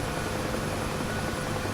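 A UH-1H Huey helicopter in the DCS flight simulator gives off a steady, loud, broadband rotor and turbine roar that stays even and unbroken throughout, with no voices present.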